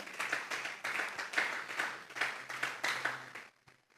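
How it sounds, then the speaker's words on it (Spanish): A small church congregation claps in a run of rhythmic bursts, moderately distant, before the applause trails off and stops. "Vamos a darle un fuerte aplauso pues al Señor"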